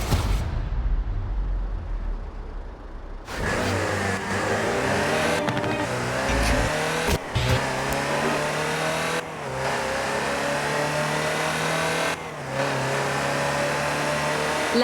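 A Land Rover Series III driving in Forza Horizon 4 opens with a low idle rumble, then its engine revs hard and climbs repeatedly through the gears, each shift marked by a brief dip before the droning pull resumes, close and loud.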